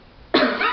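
A single sharp cough bursts out after a moment of near silence, close and loud, with a rough tail that lingers briefly.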